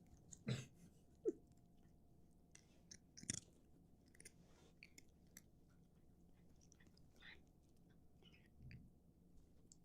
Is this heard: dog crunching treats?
yes